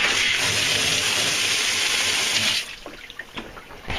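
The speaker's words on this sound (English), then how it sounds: "we got water pouring into the bilge because that hose is just running wide open." Steady hissing rush of water pouring from a hose into a Sea Ray boat's bilge, loud and constant, then stopping, leaving drips and small splashes.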